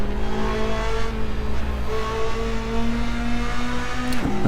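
Tyres locking under braking on a wet track in Assetto Corsa, a brief scrubbing squeal near the end over a steady, loud engine drone with clear harmonic lines that dip and rise.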